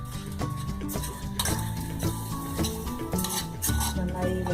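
A ragi and desiccated coconut mixture is stirred in a pan off the heat, with scraping strokes and light metallic clinks of a spoon against the pan over steady background music.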